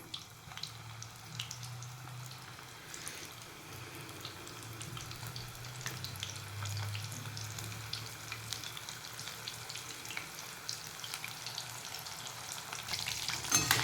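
Paneer pieces fry in oil, giving a continuous quiet sizzle scattered with small pops and crackles that carries on steadily for over ten seconds and grows a little louder near the end.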